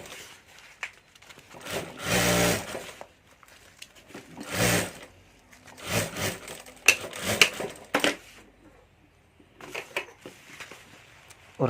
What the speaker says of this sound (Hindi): यहाँ भी मैं दोनों पार्ट एक साथ रखकर सिलाई करके